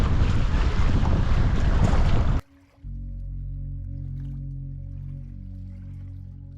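Nacra 570 sailing catamaran moving among old windjammer ships at a Kiel Week parade: loud wind buffeting and water rush for a couple of seconds, then a steadier low engine-like drone with wind softening.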